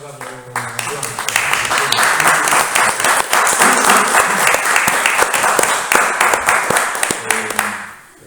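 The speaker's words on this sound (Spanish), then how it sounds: "vamos a darle una aplauso." An audience at a book presentation bursts into applause, building quickly after a brief moment of talk into loud, sustained clapping with crisp individual claps, then fading out at the end.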